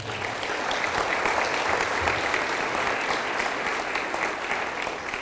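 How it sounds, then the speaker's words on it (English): Audience applause at a high school awards ceremony, a thick, continuous roar of many hands clapping that holds steady throughout with little else heard. "let's give everybody a round of applause as well"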